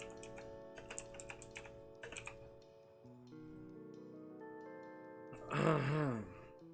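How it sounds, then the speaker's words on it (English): Clicky keystrokes on a computer keyboard come in short irregular bursts over a steady background hum, with a tablet nearby, before a brief louder groaning swell near the end. "Hard to type on the keyboard because my tablet's in the way."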